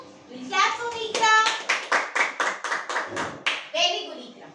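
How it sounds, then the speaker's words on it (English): Kindergarten children clap together in a classroom, a run of about ten quick, fairly loud rhythmic claps, with kids' voices speaking at the start and end. "We'll clap for Ikra."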